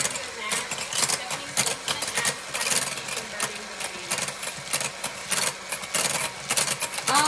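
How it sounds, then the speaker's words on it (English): Electric mixer whirring steadily at close range as it beats egg whites toward a froth, a continuous buzzing motor drone with fluctuating intensity and no talk over it. "I'm going to beat them until they just start to get frothy. So it may get a little loud"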